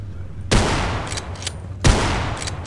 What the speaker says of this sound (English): Now I am wasting two bullets on that.